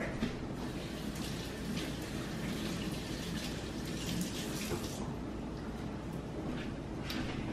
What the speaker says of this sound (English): And then I'm gonna wash this really quick.